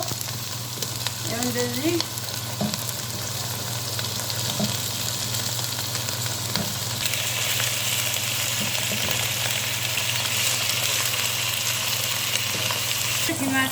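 Chicken pieces fry and sizzle loudly in a hot pan as they are stirred for a white bean stew, a dense steady crackle filling the whole stretch, with a brief spoken remark layered over it near the start.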